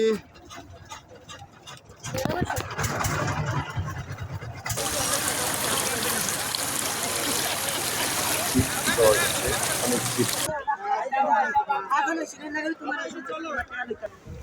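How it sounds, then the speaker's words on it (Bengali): A trawler boat pulls away across the water in Sylhet. Its loud, steady engine roar and rushing water hold for about eight seconds, with quieter surroundings and voices before and after. "এখন ট্রলার ছেড়ে যাচ্ছি"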